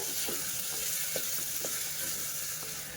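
Chillies and onions sauté in hot oil for a Gujarati lauki dal, a steady close sizzle with faint stirring clicks scattered through it.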